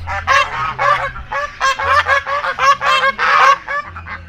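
Geese honking loudly and close together, a rapid overlapping chorus of nasal honks in quick bursts, with no talk over them.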